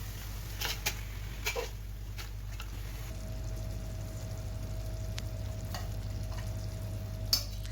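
Onions and tomatoes sautéing in a pan for mutton biryani give a soft, steady sizzle with a few light utensil clicks over a constant low hum.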